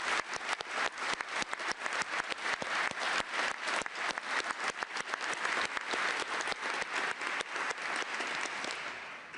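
An audience claps after a Treasury speech, a steady and fairly distant round of applause with individual claps audible, sustained for several seconds before tapering slightly.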